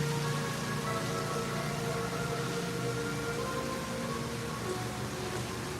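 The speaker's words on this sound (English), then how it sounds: "I'm so sorry, but there is rain here in Seattle." Steady rain falls on a Seattle ballpark during a game delay, a dense, even hiss of drops on surfaces that holds without a break.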